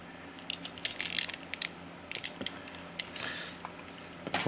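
Ratcheting joints on a Transformers Generation 2 Bruticus toy click and creak in short uneven bursts as the cannons are turned, close and fairly quiet with small gaps between clusters.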